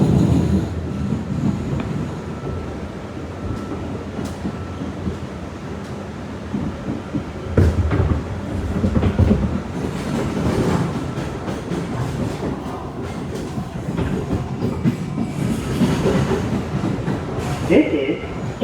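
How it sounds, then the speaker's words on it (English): An R211A D subway train runs along the line near Kings Highway with a steady rumble, clattering wheels and occasional squeals and thumps, loud and close, while voices talk and announcements play. "This is a Manhattan-bound D train via the N line."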